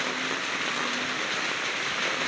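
Heavy rain falling steadily outdoors, a dense continuous hiss with no let-up and no talking.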